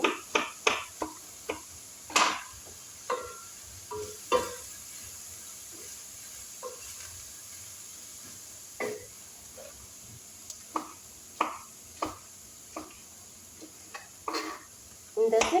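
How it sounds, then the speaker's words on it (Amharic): A knife chops fresh tomatoes on a cutting board in a home kitchen, making irregular sharp taps spread out over the clip with quiet pauses and a faint hiss between them. "ቲማቲም እየከተፍኩ ነኝ።"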